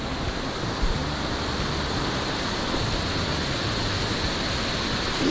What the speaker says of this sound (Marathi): तर हा आला वॉटरफॉल बघण्यासाठी